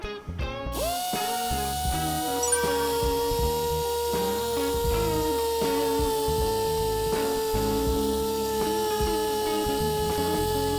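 A steady mechanical whine from a pneumatic sander with 2500–3000 grit sandpaper sanding an old, yellowed car headlight runs continuously throughout, loud and close, with a sustained tonal hum and slight wavering in pitch.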